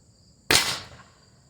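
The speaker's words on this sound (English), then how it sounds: "I'm going to go back up 15 feet and give it a couple of shots." One sharp, loud crack from an Umarex T4E HDR revolver fired at a cardboard target from about 15 feet, with a short decaying tail, over a steady background of insects.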